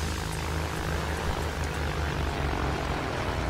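Fighter plane engines drone loud and unbroken in Battlefield 1 as a small, fast interceptor attacks an enemy bomber, a dense, close roar with no talk over it.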